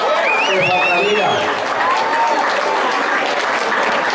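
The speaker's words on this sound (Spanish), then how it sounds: "un merecido aplauso pido para nuestro primo Charlie" Audience at a tribute to Raul Gonzalez in Tijuana, Baja California, breaks into loud, sustained applause that fills the whole stretch, with cheering voices and whistles rising over it.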